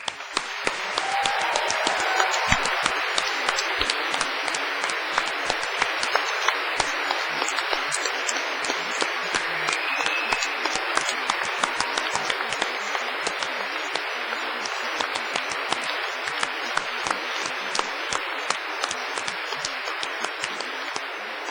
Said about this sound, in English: giving them a cheer and an enthusiastic round of applause